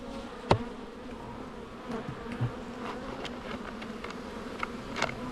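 Bees around an opened, agitated beehive during a brood inspection, their faint buzzing drifting in and out over a steady outdoor hum, with a few sharp close passes as individual insects fly near.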